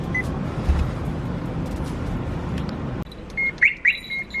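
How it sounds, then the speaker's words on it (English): Car alarm on a Mazda RX-7 chirping in short bursts, a couple of sharp beeps after a steady droning stretch, fairly close in a quiet garage setting. "Such a temperamental alarm."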